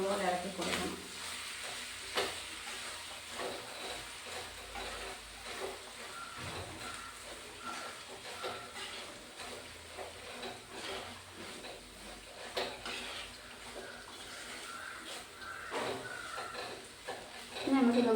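Masala being stirred into clam meat frying in a pan, a soft continuous sizzle with scraping stir strokes at a steady rhythm, close but quiet, with a voice talking over it.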